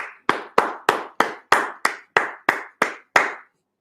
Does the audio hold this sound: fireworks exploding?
no